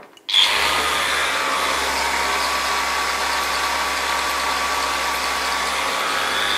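A Flex ORE 5-150 EC random orbital sander starts up and runs steadily on its lowest speed setting, a continuous close whirring motor drone with no talk.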